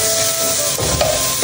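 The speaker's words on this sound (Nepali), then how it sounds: "म त टमाटर हाल्छु सुरुमा सिन्की भुट्छ नै" Tomatoes frying in a pan, added with sinki (fermented greens), give a steady close sizzle with faint stirring and hissing throughout, with no voices.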